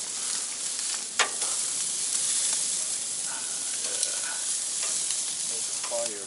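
Korean barbecue meat sizzling on an outdoor home grill, a steady loud hiss and crackle close up with occasional sharp pops and scraping stirs.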